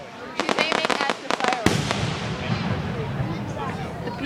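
Fourth of July fireworks, a rapid crackling burst of many sharp pops followed by a loud boom and lingering rumble and sizzle outdoors, with people talking nearby.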